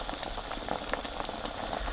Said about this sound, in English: I'm going to drop this into some hot boiling water